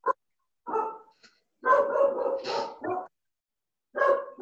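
Several dogs bark in separate short bursts, some yips mixed in, loud and close with quiet gaps between volleys and no one talking.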